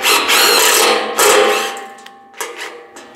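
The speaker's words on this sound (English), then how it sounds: "Let's drill this hole in it." A drill bores a hole through a metal part during work on a 1940 Chevy, the cutting sound loud and close in steady bursts with short pauses between them.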